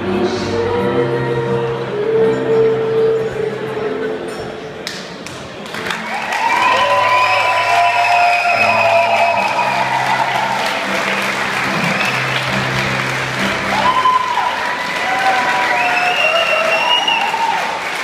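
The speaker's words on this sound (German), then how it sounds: "Ich hoffe, dass wir mal etwas größere Applaus bekommen." An audience at a Vodafone Christmas party claps loudly and continuously, with scattered cheers and a few voices rising over the dense applause throughout.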